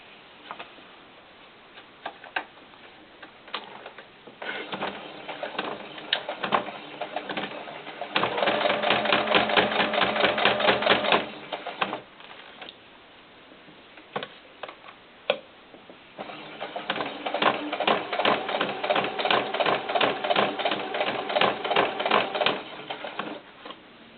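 A sewing machine stitches the last seam on a doll's cowboy hat, running in two sustained rhythmic bursts of rapid ticking needle strokes separated by quieter pauses and handling noise.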